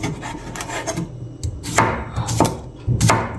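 A knife chops cucumber and other ingredients on a wooden board for a dipping sauce to go with fried pork belly, with irregular close knocks and scraping strokes and short pauses between cuts.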